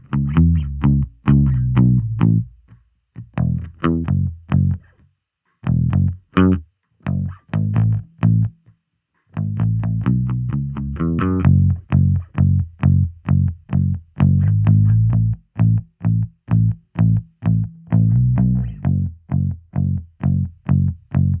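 Bass guitar recorded direct and run through amp simulation with Coles microphone emulation, playing a rhythmic line of punchy, slightly distorted notes with short gaps, loud and alone.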